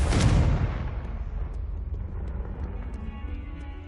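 A Confringo spell explosion in Hogwarts Legacy: a loud, sharp blast at the start, then a long rumbling decay that fades slowly over several seconds with no talk.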